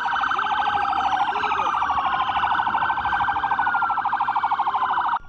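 Police vehicles carrying suspects through Accra blare loud warbling sirens that rise and fall rapidly and continuously for several seconds, close by, before cutting off abruptly.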